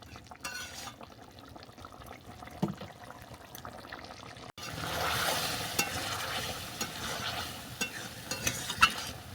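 Egg curry with kohlrabi frying in a pan while being stirred: steady close sizzling with scraping strokes, louder and denser in the second half, no voices.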